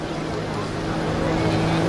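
A Pitts Special aerobatic biplane with a 200-horsepower engine drones steadily at an air show, a continuous low engine hum with someone talking over it.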